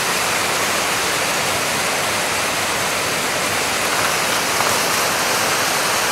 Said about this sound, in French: Et là, il y a une cascade.